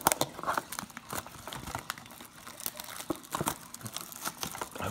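A Prizm Draft trading card blaster pack is torn and crinkled open close up, with repeated sharp foil crackles and rips coming in irregular bursts and short pauses between them.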